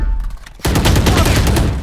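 Valorant gunfire erupts after a quiet moment into a dense, loud volley of rapid shots that continues to the end.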